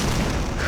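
Building explosion in Teardown, a very short, loud, dense booming roar filling the whole moment with no talk over it.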